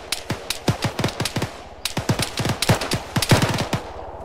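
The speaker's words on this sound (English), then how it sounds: "Can I get you guys to all shoot a few rounds in there?" Several players in Arma 3 firing rifle rounds into a bush, rapid overlapping shots and short bursts in an irregular volley, fairly close and loud, with a brief gap midway.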